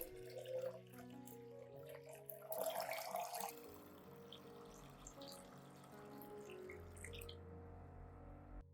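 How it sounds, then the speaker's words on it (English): Clean water poured into a diluted coffee solution for feeding plants, heard as a steady close trickle and splash of liquid that runs for several seconds and then fades out. "Add 1 liter of clean water to dilute the coffee solution."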